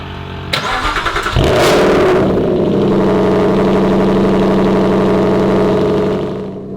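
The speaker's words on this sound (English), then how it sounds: "cold start in an Aston Martin Vantage GT8" An Aston Martin Vantage GT8 cold start: the starter whirs briefly, then the engine catches with a loud bark and settles into a high, loud, steady fast idle that fades slightly at the end, no talking.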